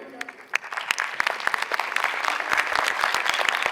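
Conference plenary audience breaking into applause, starting as a few scattered close claps and swelling into fuller, denser clapping that grows steadily louder.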